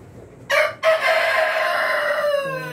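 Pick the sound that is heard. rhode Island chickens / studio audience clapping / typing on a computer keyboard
rhode Island chickens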